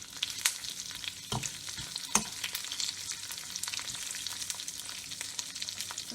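Curry leaves fry in a pan with a steady, faint hiss and crackle, broken by a few louder pops and scraping stirs, heard close with no voices.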